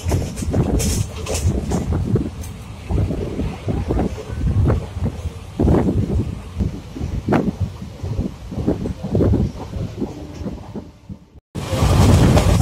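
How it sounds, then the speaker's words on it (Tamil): Strong wind outdoors at a house-warming function buffets the microphone with loud, rumbling, gusty roaring that runs almost the whole time, broken by a brief dropout near the end. "காற்று ரொம்ப அதிகமாக இருக்கிறதுனால சவுண்ட் அதிகமாக கேட்குது ஃப்ரெண்ட்ஸ்."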